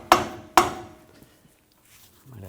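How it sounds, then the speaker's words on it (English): A rubber mallet knocks a new lower control arm into place on a 2004-2009 Audi A4 Quattro front suspension with two sharp, close taps about half a second apart, followed by quiet. "I'm just using a rubber mallet. Just tap this in place."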